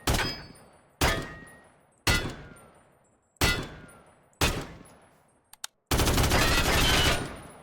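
M16A1 rifle fire in the video game TaCZ: five loud single shots, evenly spaced about a second apart, each with a sharp crack and decaying tail, followed by two quick clicks and then a sustained loud burst.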